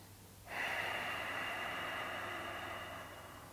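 A deep breath drawn in and slowly let out during a seated yoga twist, starting abruptly after a brief quiet and continuing as a steady, close airy rush that fades slightly toward the end, with no talking.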